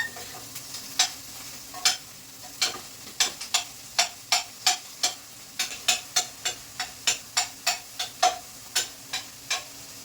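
Cooked ivy gourd (dondakaya) being chopped into small pieces with a utensil, a quick series of sharp, close tapping knocks in an irregular rhythm of roughly two dozen hits, with no talking.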